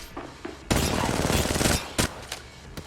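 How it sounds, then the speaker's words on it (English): Gunfire in the mobile shooter game Apex Legends Mobile: a long, loud automatic burst lasting about a second, then a couple of short separate shots and fainter scattered fire afterward. "They're shooting at me."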